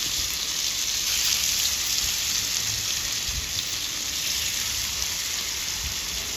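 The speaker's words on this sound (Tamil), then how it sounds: "இப்போ மீனை ஒவ்வொன்றா பொரிச்சு எடுத்துடலாம்." Fish pieces frying one at a time in hot oil on a dosa pan give a steady, close, dense sizzle that holds evenly from start to finish with no talking over it.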